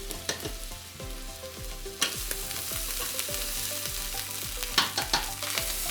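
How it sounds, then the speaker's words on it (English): Beef sausage fried rice sizzles steadily in sesame oil while a utensil scrapes and stirs through it in repeated strokes, with sharp clinks against the pan, close and continuous with no talking. "And then stir everything all together."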